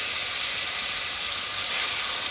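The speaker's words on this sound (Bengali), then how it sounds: "তেলটা গরম হয়ে গেছে, এখন এই মাছগুলো ভেজে নেব।" Turmeric-coated rithe fish fry in hot oil, a steady dense hiss that holds evenly and swells slightly near the end, close and continuous with no talk.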